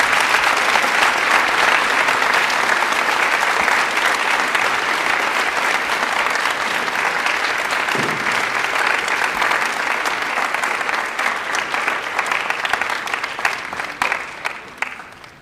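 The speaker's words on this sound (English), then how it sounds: "let's go ahead and just give these men and women a round of applause" A school gym crowd at a Veterans Day program applauds veterans with a long, full round of clapping. It stays loud and even for most of its length, then thins to scattered claps and fades out at the end.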